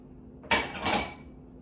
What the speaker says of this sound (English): Now I mix in the sugar, the cocoa,